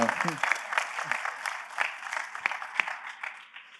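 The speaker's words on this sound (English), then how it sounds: "So maybe a round of applause for that." Applause from the audience at a startup pitch session, a fairly light, uneven patter of hands lasting a few seconds, with scattered louder claps and faint voices underneath.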